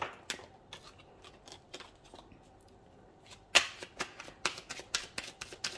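Tarot cards shuffled and handled, giving crisp, close riffles and flicks, sparse at first and then a quicker cluster of snaps.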